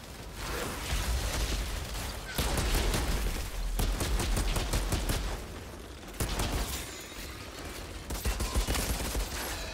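Weapon skill shots in the video game Outriders fire in dense, rapid volleys, loud and continuous, with crackling bursts and booming impacts layered over a heavy, rumbling battle background.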